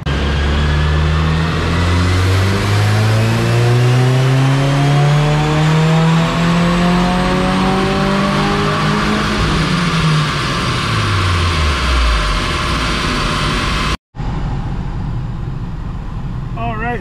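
A 2022 Subaru WRX fitted with a Blouch turbo and electronic wastegate runs a boosted pull, its engine note climbing steadily for about fourteen seconds, loud and close, before cutting off abruptly into a quieter lingering hum.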